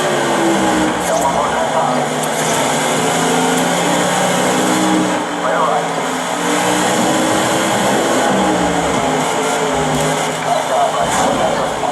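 Race cars in the NASCAR 2011 video game roar through the final lap at Bristol, a continuous loud engine drone with shifting pitch as the pack circles the track, a voice talking over it throughout.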